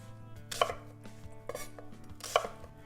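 A knife chopping a peeled onion on a cutting board for a mirepoix, with a few sharp, close chops spaced about a second apart over a low background hum.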